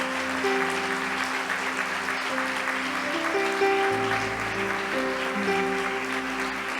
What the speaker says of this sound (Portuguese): eu quero que a igreja aplaude o Senhor pela vida de vocês.